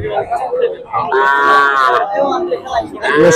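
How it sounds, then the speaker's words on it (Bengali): Local-breed bulls at the Dhanbari cattle market low with loud, drawn-out moos, one long call in the middle and others around it, over a busy background of crowd noise. "দেখেন প্রচুর পরিমাণ কানায় কানায় গরুগুলো উঠেছে আমাদের ধনবাড়ি গরুর হাটে"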